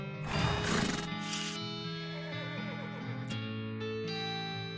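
A horse whinnies in the West of Loathing video game, a bright neigh near the start followed by a looping western music background with soft rubbing effects, fairly quiet overall.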